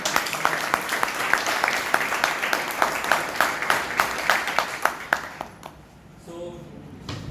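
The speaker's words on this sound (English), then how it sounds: "let us give a big round of applause and welcome" Members at a Toastmasters meeting in Bangalore clap in a loose, rhythmic round that thins out after about five seconds, leaving a quieter room with a brief voice and a soft tone.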